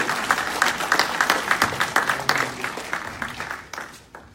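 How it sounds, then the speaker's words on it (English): An audience at a monthly meeting claps steadily for a few seconds, a dense, even round of applause that gradually tapers off. "give me another round of applause"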